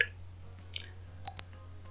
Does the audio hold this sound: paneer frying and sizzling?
no